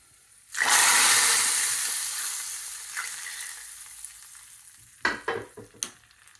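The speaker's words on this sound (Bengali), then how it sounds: "আমি এখন এই চুলাটা বন্ধ করে দিয়ে আমি ডালে এখন বাগার দিয়ে দেবো" Hot oil tempering (bagar) poured into cooked dal bursts into a loud sizzle that slowly fades, followed by a few sharp spoon clatters near the end, with no talking.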